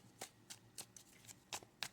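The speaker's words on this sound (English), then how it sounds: "I'm going to pull out a couple of tarot cards" Tarot cards are handled and shuffled, crisp papery flicks coming in a quick, even rhythm of about seven soft riffles, close and quiet.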